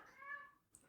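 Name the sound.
Siamese cat meowing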